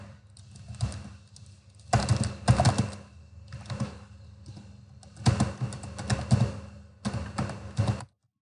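Fingers type on a computer keyboard in quick bursts of rapid clicking keystrokes separated by brief pauses, close and clear with no talking.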